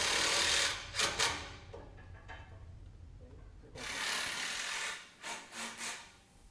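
Small impact driver sinking self-drilling screws into a metal spiral staircase during installation, heard as loud sustained grinding bursts with rattling pauses between them, close by and with no talk over it.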